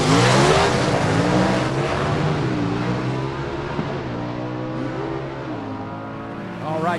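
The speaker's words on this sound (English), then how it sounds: "a lot of wheel spin" Gasser drag race cars launch off the line at a Southeast Gassers Association Super Stock event, engines roaring loud and steady with wheel spin, a sustained harsh rasp that eases slightly over several seconds.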